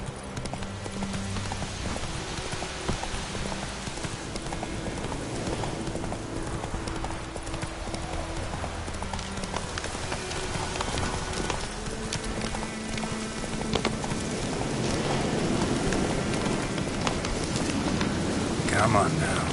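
Horse hooves clip-clop steadily in a rhythmic trot through rain in The Witcher 3 game, close and continuous over a constant hiss of rainfall.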